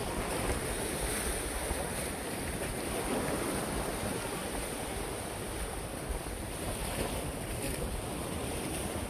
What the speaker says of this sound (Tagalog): Lakas ng alon, eh.